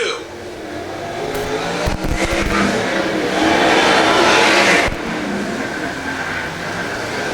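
Sprint cars roar around a racetrack during a heat race, their engines loud and revving with a surge in the middle as cars pass. An announcer talks over the noise.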